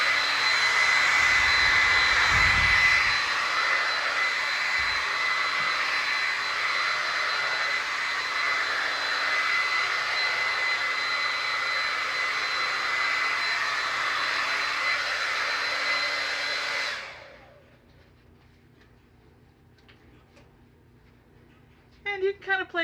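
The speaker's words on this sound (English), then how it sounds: "Alright, now you want to put your hairdryer on." A steady, loud roar of a hair dryer blows for about seventeen seconds, then cuts off, leaving near silence before a brief voice at the end.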